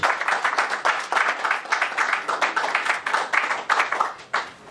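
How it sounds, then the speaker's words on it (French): An audience at a UNC party symposium in Europe applauds a presidential candidate, a steady, close wash of many hands clapping in uneven rhythm for nearly five seconds before tapering off. "M. Vital Kamerhe, que je vous demande d'applaudir."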